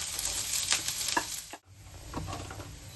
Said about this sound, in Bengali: এবার পেঁয়াজ ভাজা হয়ে গেছে, বেশি কিন্তু লাল লাল করে ভাজবো না